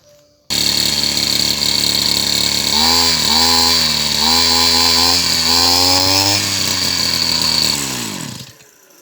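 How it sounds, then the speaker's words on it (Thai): An Oleo-Mac brush cutter's small two-stroke engine runs loud and close, its buzzing whine rising and falling through several throttle blips before cutting off. "เดี๋ยวก็มาฟังเสียงเจ้าโอเลแม็กเป็นตัวแรกเลยนะครับผม"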